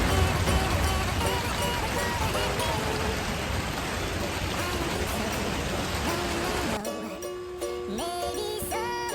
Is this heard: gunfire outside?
no